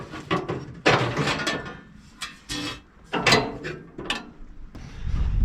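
A ratchet tightening parts on a wood chipper, a series of quick clicking pulls in short irregular bursts, close and fairly loud, with metallic knocks between strokes.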